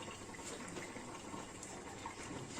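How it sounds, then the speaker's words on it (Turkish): A thick béchamel sauce pours steadily over pasta in an oven tray for a baked macaroni dish, giving a continuous close wet gushing sound with no break. "Şimdi kalan beşamalimi de dökeceğim."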